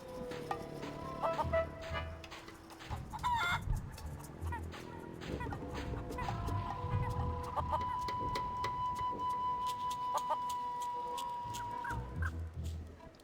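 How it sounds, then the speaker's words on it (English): Cartoonish chickens clucking and squawking in The Curse of Monkey Island, a busy, fairly quiet stretch of bird calls over soft game music with a few sustained tones. "They are chunky chickens."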